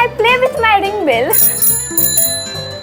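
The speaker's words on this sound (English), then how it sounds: "when I feel very sad and alone, then I play with my ring bell." A small hand ring bell chimes with bright, sustained metallic tones, following a person speaking, and a low rhythmic sound runs beneath throughout.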